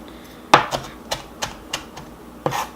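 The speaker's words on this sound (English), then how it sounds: "just chop down some fresh dill" Knife strikes on a cutting board while fresh dill is chopped for a seafood ravioli filling, five or six sharp, close taps in an uneven rhythm with quiet pauses between them.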